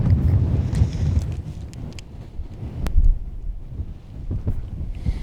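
Strong wind on a snowy mountain trail in the Anaconda-Pintler Wilderness buffets and roars across the microphone in gusts, rising and falling, with a few faint clicks and knocks underneath.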